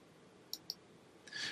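Two crisp, faint computer mouse clicks in quick succession over a quiet room hiss, followed by a brief soft rustle.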